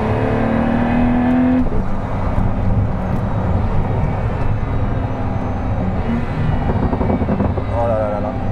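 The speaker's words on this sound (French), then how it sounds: "À décélération, on entend vraiment le turbo qui retombe en pression." Pagani Huayra Roadster BC hypercar decelerating as turbo pressure drops, a loud, steady engine roar with a brief high whistle early on, sustained throughout without talk.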